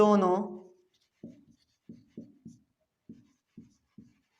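A pen writes on paper while working a Class 10 math problem: a brief voice speaks first, then about seven short, soft scratchy strokes follow in an uneven rhythm, close and fairly quiet.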